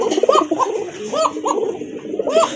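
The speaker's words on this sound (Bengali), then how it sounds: "বুকের ডাকটা দেখেন। এই যে শুরু হয়ে গেছে।" Pigeons at a loft selling local and foreign breeds give several deep, rolling coos in a rhythmic series, close and clear, with no talk over them.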